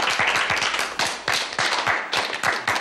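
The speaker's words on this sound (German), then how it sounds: "wie wär's denn jetzt mal mit einem fairen Applaus für unsere Zweitplatzierten?" Enthusiastic clapping from an audience for the second-place team in a school "car of the future" competition, dense and continuous with sharp individual claps standing out throughout.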